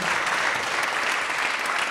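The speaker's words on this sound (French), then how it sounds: "remercier évidemment Francis, vous pouvez l'applaudir à nouveau." Audience applause at a Cap Digital presentation of an AI report in France, a steady dense clapping from a sizable crowd filling the whole two seconds at even loudness.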